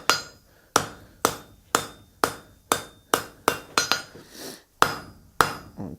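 A hammer strikes hot round steel while a scroll is hand forged, with about fifteen sharp ringing blows at a steady, slightly quickening pace, each clang decaying quickly, close and loud with no talking.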